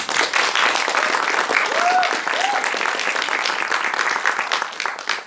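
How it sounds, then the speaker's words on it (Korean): A large audience applauds continuously, dense clapping holding steady before tapering slightly at the end. "제작 그리고 감독해주신 권호성 대표님 그리고 성시찬 감독님의 뜨거운 박수를 부탁드리겠습니다."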